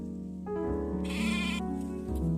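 A sheep bleats close by, giving a few wavering, nasal calls in quick succession over a quiet rural background.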